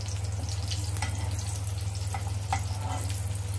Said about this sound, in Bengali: তো পেঁয়াজ দিয়ে দিলে পেঁয়াজটা ভাজা ভাজা করে নেওয়া হবে।